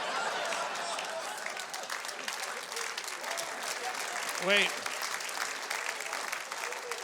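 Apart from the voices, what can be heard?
audience applause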